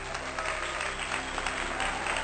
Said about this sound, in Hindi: अब सब मिलकर जोर से तालियां बजाइए